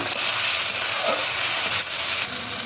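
Cumin and ginger spice paste frying in a pan, a steady, bright sizzling hiss that holds loud and even throughout with no talking.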